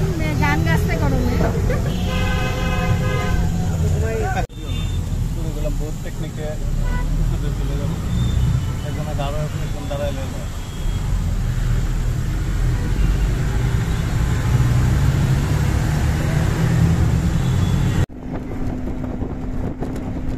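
Steady low rumble of a moving bus interior on a road trip from Dhaka to Jessore in Bangladesh, with continuous engine and road noise, brief tonal blasts early on like horns or music, and voices murmuring throughout.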